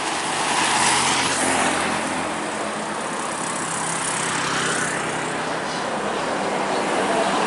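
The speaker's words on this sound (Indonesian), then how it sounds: "Dua bus PMH menuruni jembatan Siak akan melewati tikungan manuver." Two PMH buses roll down the Siak bridge toward a tight bend, a steady broad roar of engines and tyres rising and easing slightly as they pass, loud and continuous with no talk.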